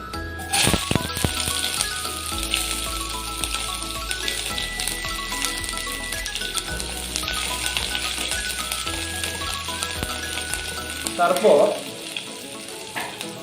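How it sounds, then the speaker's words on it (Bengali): Chopped onions hit hot oil in a pan and fry with a continuous bright sizzle and scattered spatters, fairly close, over steady background music, and a voice briefly speaks near the end. "তেলটা গরম হয়ে যাওয়ার পর আমরা কুচি করে রাখা পেঁয়াজগুলো প্রথমে দিয়ে দিচ্ছি।"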